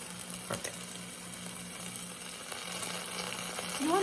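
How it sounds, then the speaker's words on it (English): Loud, continuous sizzling of meat searing in a hot pot for Mississippi pot roast, crackling steadily with a few sharper pops, and no one speaking. "You want to be able to hear that sound of the meat searing"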